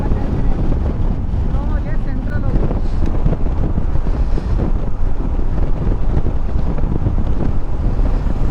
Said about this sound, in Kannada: ಈ ಗಾಳಿ ಒಂದು ಸಿಕ್ಕಾಪಟ್ಟೆ ಗಾಳಿ ಅಂತ ಹೊಡಿತಿದೆ.